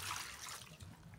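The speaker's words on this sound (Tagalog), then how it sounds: "Lagyan natin ng kunting tubig." Water trickles and splashes softly, a faint close pour with gentle bubbling and no voices.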